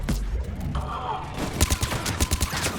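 Gunfire in the video game Mass Effect 3 comes as a burst of sharp, rapid shots with dull thumps, loud and close, after a brief stretch of quieter game ambience.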